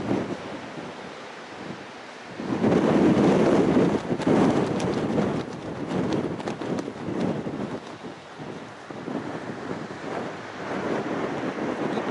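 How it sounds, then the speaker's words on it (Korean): Strong wind blows in gusts at the seaside near Ttangkkeut village in Haenam, buffeting the microphone. The roar is loud and continuous and surges hardest after a calmer start. "오, 바람이 너무 세, 너무 세"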